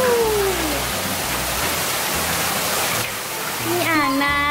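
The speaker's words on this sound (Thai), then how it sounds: "เสียงน้ำตกจะดังนิดนึง" Waterfall feature beside a hotel swimming pool, giving a steady broadband rush of falling water that fills the scene, with a voice speaking over it toward the end.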